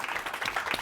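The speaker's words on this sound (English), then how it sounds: "Can we give them a round of applause," A brief burst of audience applause for the panelists at a public forum on schools and talented students of color, a group clapping in a short moderate flurry.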